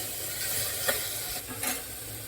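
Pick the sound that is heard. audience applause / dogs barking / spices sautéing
spices sautéing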